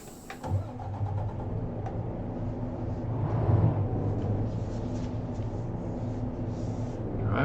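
A truck engine cranks over and catches, then settles into a steady, rumbling idle that holds close and moderately loud, with a brief swell in revs partway through.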